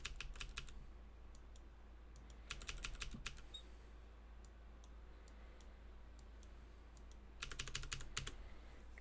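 Quick bursts of computer keyboard typing and key presses, including arrow keys, during setup of a budget DIY FPV drone build, coming in three clusters of rapid clicks over a low steady hum with quiet gaps between.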